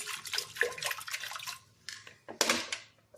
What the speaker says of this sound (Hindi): साथ में डालेंगे इसमें हम पानी।